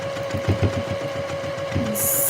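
A sewing machine stitching a Christmas dress strap runs in a steady mechanical whir with short rhythmic bursts, close and fairly loud, then ends in a brief high hiss.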